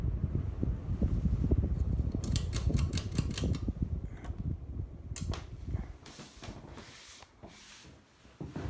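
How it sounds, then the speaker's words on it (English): A Hunter Preference 52-inch ceiling fan spinning down after being shut off, a close whooshing rush of air with rhythmic blade pulses and clicks that gradually slow and fade. "Do a spin down and then put it on reverse."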